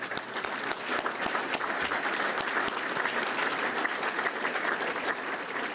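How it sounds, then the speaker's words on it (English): A crowd at a press event with the Chicago police superintendent and the mayor applauds, producing steady, dense clapping that runs unbroken throughout at a moderate distance. "let's give them a round of applause"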